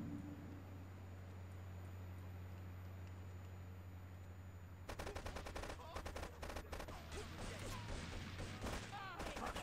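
Rapid gunfire in GTA III Definitive Edition, bursts of sharp shots starting midway and repeating in quick clusters over low background game ambience.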